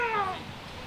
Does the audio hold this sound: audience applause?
no